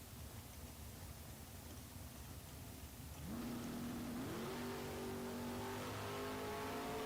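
Drag race cars, a Roadster and a first-generation Camaro, launching down the strip: low distant rumble, then engine roar rising sharply in pitch as both accelerate hard, loud and sustained.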